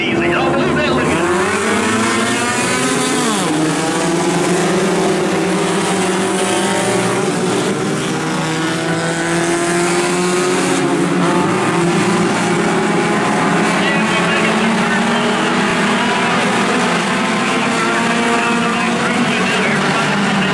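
Super 4 and Amateur 4 feature race at Oglethorpe, 18 cars combined, roaring off the start in a dense, continuous pack of engine noise. The sound is loud and sustained throughout, with engines rising and falling as cars pass.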